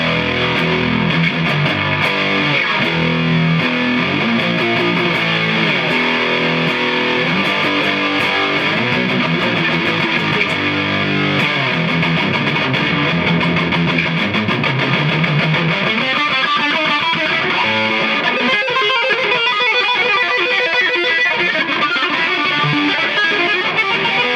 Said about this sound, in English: the MD-2 with the distortion to the max.